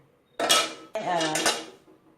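A metal cooking pot, readied for holding fried ingredients while making a vegetarian braised dish, clanks loudly twice at close range: one sharp knock, then a longer scraping clatter.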